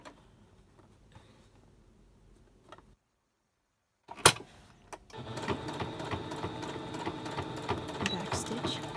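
A sewing machine back stitches across mask pleats, starting with a brief quiet pause and a click, then running in a steady, close mechanical whir through the second half.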